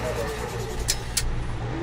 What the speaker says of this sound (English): I hear a car right outside the van.